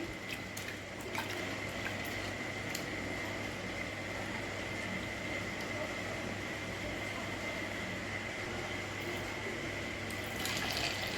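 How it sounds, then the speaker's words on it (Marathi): Water pours steadily over chana dal to soak it, a continuous even rush of liquid filling a vessel heard close and alone for the whole stretch. "पाणी टाकून भिजून ठेवायचं आहे"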